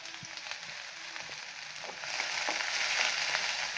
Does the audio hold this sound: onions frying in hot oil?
yes